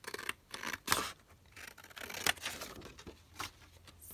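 Scissors trim black paper pieces for a 12 x 12 scrapbook pocket, a few short crisp snips and rustles close by with quiet gaps between them, no speech.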